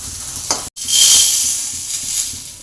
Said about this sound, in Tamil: 6-7 காஞ்ச மிளகா போட்டு எல்லாத்தையும் வதக்கி விட்டுருக்காங்க. நல்லா ஃப்ரை ஆகும்.